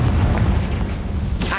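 A Confringo blasting spell explodes in Hogwarts Legacy, a booming burst with rumbling low-end decay and a brighter crack near the end, loud and close with no talk.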